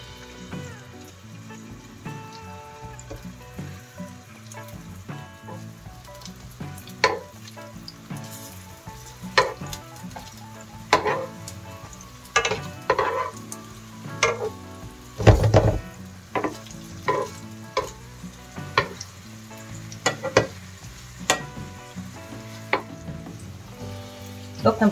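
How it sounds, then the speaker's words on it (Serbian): Small meatballs fry in hot oil, a steady low sizzle with repeated crackles and pops as they are placed and turned, close and moderately loud with no talk. "Ulje nam se zagrelo, možemo malo da smanjimo temperaturu i stavljamo čuftice da se prže."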